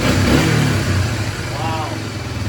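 A Big Red ATV with a newly upgraded carburetor snarls through loud, close throttle blips and revs, the engine rising and falling continuously as people talk over it.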